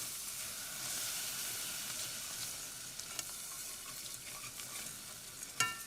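Tomato-tinted milk is stirred gradually into a flour roux in a pan just taken off the heat, giving a soft continuous scraping and swishing with a faint steamy hiss throughout and a sharper clink near the end.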